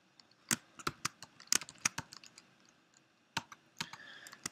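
Someone types on a computer keyboard, quick irregular clusters of sharp clicks and key taps with short pauses between bursts, close and fairly quiet.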